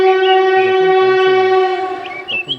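A train horn sounds as a sustained steady tone over rhythmic rolling rumble of railway cars, loud and close, tapering off near the end, used as an effect in a spoken Bengali ghost story.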